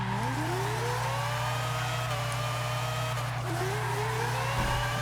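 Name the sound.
four-rotor car engine in racing video game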